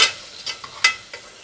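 Green chilies, mint and coriander stirred in hot oil, a short burst of a few quick scraping strokes over a soft crackle, close and fairly loud.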